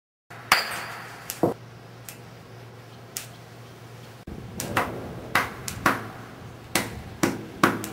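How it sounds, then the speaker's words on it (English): A bonobo chops at a log with a thick stone flake, giving sharp, irregular knocks, some single and some in quick clusters, fairly faint and close. "Note how Kanzi uses the thick cortical flake he produced with the sharp edge hitting the log along its glued slit"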